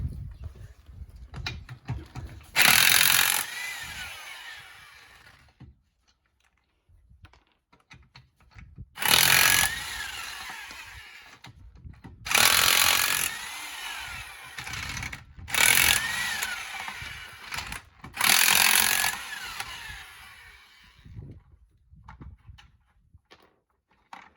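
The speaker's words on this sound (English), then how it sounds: "we're going to move our impact wrench, and we're going to take the other tire off" An impact wrench removing a tire during a tire rotation on a 2013 Dodge Avenger fires in five loud, harsh bursts of one to two seconds each, separated by quieter gaps with faint shop noise.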